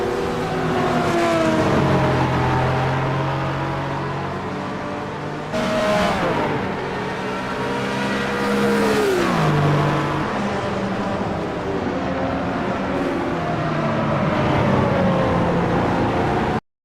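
Historic sim-racing prototypes at Lime Rock in a virtual sportscar championship roar past, engines loud and close with pitch sweeping down under braking and climbing again as one 2LSP car overtakes another, repeated through the run with no talk.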